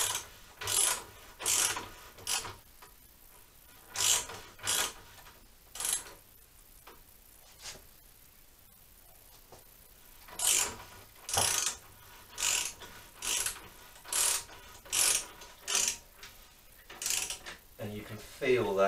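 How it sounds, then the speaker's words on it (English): A hand ratchet clicks in repeated bursts of fast pawl ticks while tightening the swingarm nut on a Honda CBR400 motorbike frame, with short pauses between strokes, close and clear. "all the while I'm tightening up this side, I'm just going to gradually ease up the main nut on the other side"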